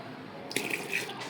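Watery ragi flour batter poured into a cooking pot of boiled broken grains, a short liquid splash and trickle starting abruptly partway through, close and fairly clear.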